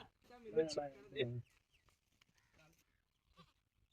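A goat bleats loudly twice in quick succession, close by, followed by quiet rustling and faint background sounds.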